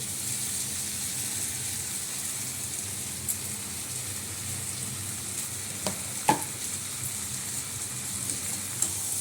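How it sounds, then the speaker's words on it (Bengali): Boiled egg pieces go into a frying pan with a steady, even sizzle throughout, broken by a few soft clicks and taps near the end. "এই ডিমগুলো দিয়ে দিচ্ছি, ডিম সিদ্ধ করে টুকরো করে নিয়েছি।"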